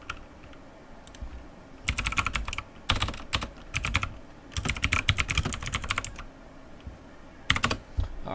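Fingers type on a computer keyboard in quick bursts of clicky keystrokes separated by short pauses, close and clear with no talking.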